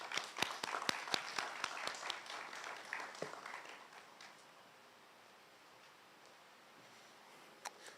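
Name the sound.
applause for the speaker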